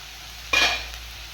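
Banana flower sautés in a pan, a single short burst of stirring and sizzling rising briefly over a quiet background hiss.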